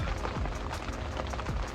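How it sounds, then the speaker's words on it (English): Steady rain patters on the fabric of a fishing bivvy, a dense close hiss with scattered individual drops tapping throughout. "The rain's picked up, as you can probably hear."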